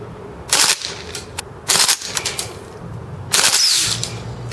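A Marushin M2 Carbine gas airsoft gun fires BBs on full auto in cold weather: three short, rapid bursts of sharp, close, loud snapping shots, separated by brief pauses over a low background rumble.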